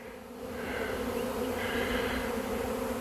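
A huge honey bee swarm buzzing outdoors: a dense, continuous hum of many bees close by, swelling slightly in loudness.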